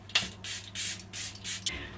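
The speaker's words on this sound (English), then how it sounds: "Finish off with the new Charlotte Tilbury Airbrush Flawless Setting Spray." Charlotte Tilbury Airbrush Flawless Setting Spray misted onto a face in four or five close, hissing bursts of roughly a quarter second each, with short pauses between them and no talking.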